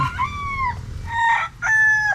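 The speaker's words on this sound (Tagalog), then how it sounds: "Yan yung mga manok nila." A rooster crows close by, several drawn-out calls with brief pauses between them, while hens cluck softly underneath.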